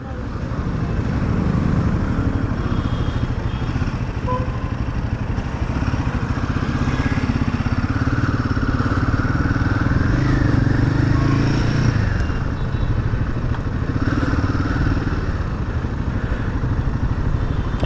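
A Royal Enfield Himalayan 450 motorcycle engine runs steadily and close, a continuous mid-pitched drone with some clatter throughout, no other sounds standing out.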